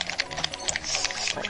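A voice imitates a scuffed keyboard during a shooter game, making fast, dense clicking bursts close to the mic, like rapid typing, with no actual words.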